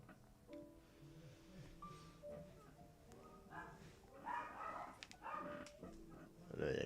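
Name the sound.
dogs barking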